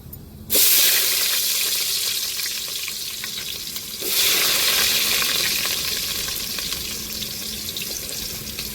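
Chopped onions hit hot oil with cardamom and cloves in a pan for crab biryani, bursting into a loud sizzle that settles, then flares again a few seconds later and fries on steadily.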